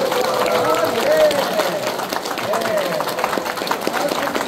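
Steady warm applause from an audience of elders in a church lecture hall, a continuous wash of clapping that runs throughout, with a voice talking over it.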